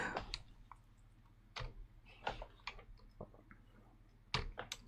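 Clicks and taps from a computer keyboard swapped for a quieter model, sounding as scattered sharp keystrokes at irregular intervals over a low steady hum, moderately close and fairly faint.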